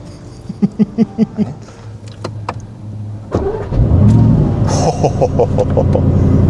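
An Aston Martin Vantage V8 twin-turbo coupe gives a few clicks and thumps, then its engine fires up with a loud burst and settles into a deep, close, rumbling idle that swells as the test drive begins.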